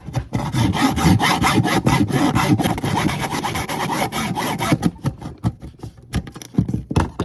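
A hand saw cuts through a rusted GoPro Hero 10 mount in fast, continuous rasping strokes, loud and close. The strokes break up into a few scattered scrapes as the cut finishes.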